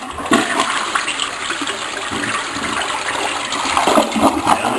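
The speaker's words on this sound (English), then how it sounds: "And I've got to use the toilet." A newly installed toilet flushing nearby, a loud rushing gush of water that swirls steadily and then swells again toward the end, with no talk over it.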